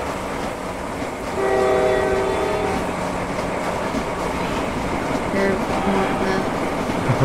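A train in Roblox Jailbreak rumbles past loudly and steadily, its horn blaring in long tones midway and again near the end over constant rolling noise.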